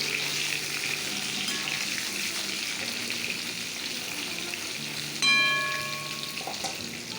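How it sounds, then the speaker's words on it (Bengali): Pointed gourd (potol) frying in oil in a kadai, a loud continuous close sizzle with a brief metallic clink near the end, no voices. "পটলটাও ভেজে নিই এই তেলটার মধ্যে।"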